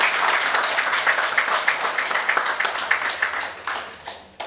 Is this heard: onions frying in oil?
no